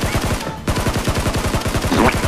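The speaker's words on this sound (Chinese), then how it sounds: "山头上还有枪声，过去干了他" Automatic gunfire in a PUBG-style battle royale video game rattles out as a loud, close, continuous stream of rapid, evenly spaced shots, with only a brief dip in the barrage.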